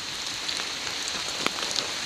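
Steady rain falls outdoors during a walk, a soft, even hiss of drops with a few brief pattering spikes and no voices.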